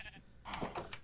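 Minecraft sheep bleat in a game, two or three short nasal cries in quick succession over a faint background.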